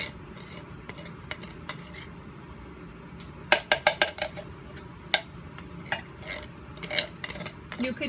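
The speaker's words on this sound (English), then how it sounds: "So you're just going to scoop your pumpkin out" A spoon scooping pumpkin into a mixing bowl, with light scraping, then a run of sharp metallic clinks and taps against the bowl, close and moderately loud with pauses between.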